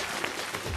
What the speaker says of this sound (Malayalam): നല്ല കൈയടികൾ വരാം